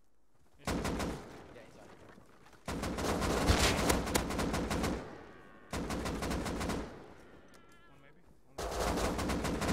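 Bursts of rapid automatic gunfire from a firefight in the survival video game Rust come in several separate volleys, loud and close, with brief player chatter between them.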